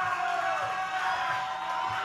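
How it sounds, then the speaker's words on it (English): Wrestling crowd at an OVW event cheering and shouting to spur on the wrestler T-Dub, a steady roar of many voices under a loud hall ambience. "This crowd trying to will him on."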